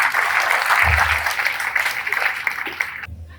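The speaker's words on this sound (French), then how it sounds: "Madame Sofiatou Camara, sous vos applaudissements." A crowd at a school awards ceremony in Yeumbeul, Senegal claps steadily and loudly for a few seconds, the applause thinning out and stopping abruptly near the end.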